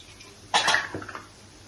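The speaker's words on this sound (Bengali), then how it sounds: "এখন আমি জল দিচ্ছি।" Water poured into a pan of cooked egg curry masala, a short close splash and gurgle lasting under a second against a quiet background.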